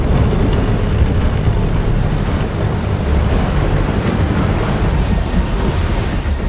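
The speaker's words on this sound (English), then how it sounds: "Is it going to be able to make it? That's some rough water." Rough sea waves in a TV show scene, a loud continuous roar of surf and churning water that fills the whole stretch without letting up, no voices present.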